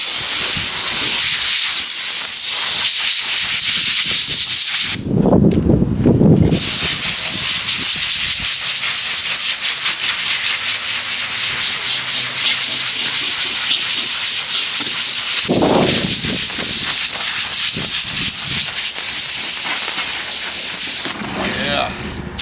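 Brake cleaner aerosol sprays in hissing bursts near a track car in a garage, two loud spurts around the middle and end over steady broadband shop noise, with a brief final burst.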